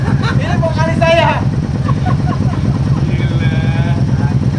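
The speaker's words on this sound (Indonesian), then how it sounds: "sekarang udah suara knalpot" Custom exhaust on a Harley-Davidson Road Glide gives a steady, loud low rumble through the whole clip, with voices talking over it and a brief higher tone near the end.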